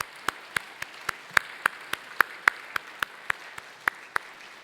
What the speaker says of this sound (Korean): 우리 환영하는 마음으로 박수하죠